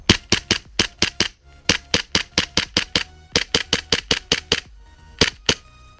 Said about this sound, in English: Tokyo Marui HK45 range test